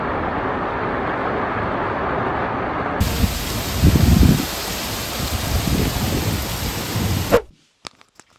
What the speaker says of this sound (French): il y a de l'orage de ouf. Et il pleut.